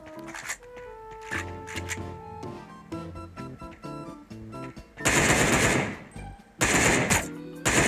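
Gunfire in the video game Sausage Man: rapid automatic bursts in short rattling strings, then two loud sustained volleys near the end, with game sounds between.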